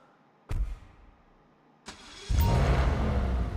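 A Pegassi Toros starts up in GTA 5: two short cranking bursts, then the engine catches and settles into a loud, steady idle with a low rumble, close and alone.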